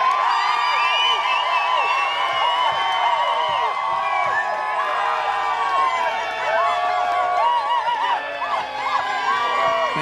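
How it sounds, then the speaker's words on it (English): A powwow crowd cheers for a dancer, a dense wash of shouts, whoops and high children's voices held at a constant level for the whole stretch, loud and lively. "Now, big cheer for the dancer"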